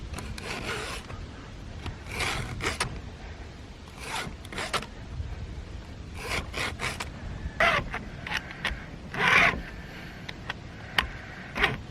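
A hand file sharpens the teeth of a chainsaw chain held in a vise, giving short, irregular rasping strokes close by, separated by quiet gaps and some light handling noise.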